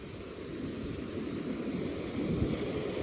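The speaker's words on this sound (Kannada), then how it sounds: "ಫುಲ್ ದೊಡ್ಡ ಅಲೆಗಳು ಅವ." Big ocean waves roll in at Surathkal beach near the lighthouse, a continuous low, rumbling surf wash swelling slightly toward the end, with no voices.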